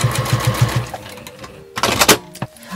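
A sewing machine edge-stitches fabric on a garment remade from boro rags, with a fast rhythmic needle chatter for about a second, then close handling rustles and clunks.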